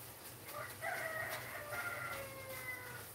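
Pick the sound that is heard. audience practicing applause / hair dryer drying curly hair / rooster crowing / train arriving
rooster crowing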